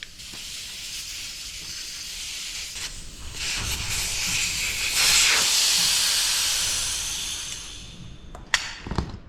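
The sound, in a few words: air hissing out of a Yamaha Zuma scooter tire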